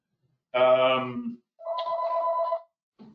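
A home phone rings, close and loud, during a talk on options trading: two electronic ringing bursts with a short gap between them, then the start of a third, with no talk over them.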